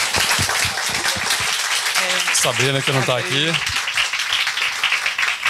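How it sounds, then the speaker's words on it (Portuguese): Audience applause for the organisers at a biotech startup demo day, a crowd's clapping heard throughout, with someone talking over it partway through. "uma salva de palmas para os dois, por favor."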